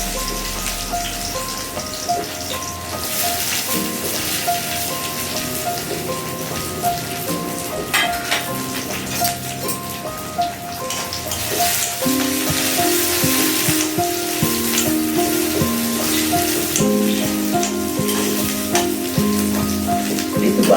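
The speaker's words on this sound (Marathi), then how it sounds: "काजू बदाम मी चांगले तुपातनं आता फ्राय करून घेणार" Cashews and almonds frying in ghee for kheer, a steady dense crackling sizzle with fine popping that continues throughout at close range, with soft background music tones.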